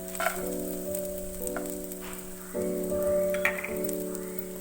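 Cashews tipped into softened onions frying in a pan give a steady, close sizzle with light stirring scrapes, no talking over it.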